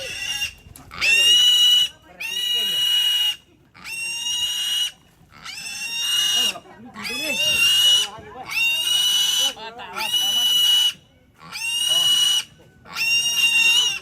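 Pigs at a Rambu Solo' funeral gathering in Parinona, Malakiri, squeal loudly and close by in a long run of repeated bursts, each lasting about a second and separated by short gaps.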